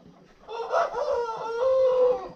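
Polish-breed chickens and a rooster on a farm give a drawn-out crow with clucking underneath, close and fairly loud, with a quiet background and no talking.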